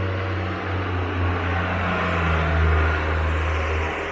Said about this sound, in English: no, diesel truck. That's a loud one.